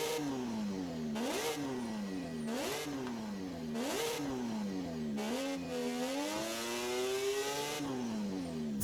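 A high-pitched three-rotor rotary engine in Forza Horizon 5 revs in four sharp repeated bursts, then climbs in one long, rising rev, loud and buzzy with no talking.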